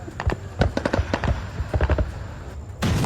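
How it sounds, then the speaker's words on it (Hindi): Indian Army rapid gunfire from modern weapons at the Mahajan Field Firing Range in Rajasthan, loud sharp cracks in quick irregular bursts, then a dense rumble of sustained fire at the end. "दुश्मन के टारगेट को ध्वस्त करने के लिए मॉडर्न हथियारों से दनादन फायरिंग की जा रही है"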